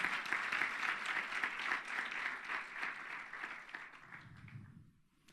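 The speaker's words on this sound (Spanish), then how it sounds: "Si quiere aplaudir al Señor, hágalo, por favor." A church congregation at a Sunday service claps together in steady applause that fades out over about five seconds, ending in near silence.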